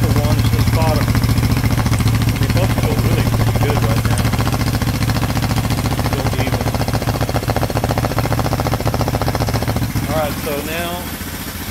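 A small old engine with points ignition idles loudly and steadily close by, a fast, rough, even chugging throughout, with a voice talking faintly over it.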